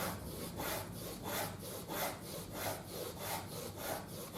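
Polishing the inside of a leather crew punch makes rhythmic back-and-forth rubbing strokes, about two per second, close and soft with a raspy scrape on each pass, alone without speech.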